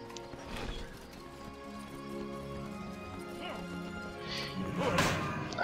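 Hooves clip-clop in a steady rhythm over background music, with a few sharper knocks and clatters mixed in, from the video game World of Warcraft.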